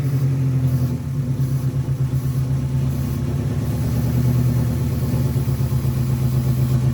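An Acura Integra engine idles roughly with a steady low rumble that wavers and stumbles while carb cleaner is sprayed around the intake during a vacuum leak test on a bad intake manifold gasket, with no talking.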